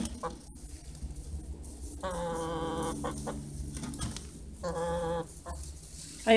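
Two hens cluck and squawk nearby in a couple of drawn-out bursts, with quieter clucking between them.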